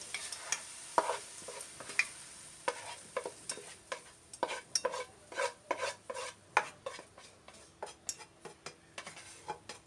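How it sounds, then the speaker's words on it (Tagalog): Croquette filling being mixed into mashed potato, a series of close, rhythmic stirring taps and soft scrapes of a utensil against a bowl, with no voices. "Then afterwards, mix it to the mashed potato."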